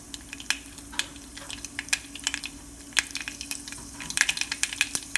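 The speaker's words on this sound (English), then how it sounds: "so it's time for me to drop the mustard. Okay, stir it a bit, stir it a bit" Mustard seeds sizzling and popping in hot oil for a mango pickle, with sharp crackles scattered over a steady frying hiss, growing busier toward the end, heard close and alone.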